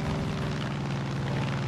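Steady, continuous drone of an airplane engine in Far Cry 5, a constant propeller hum and roar at even loudness with no pauses.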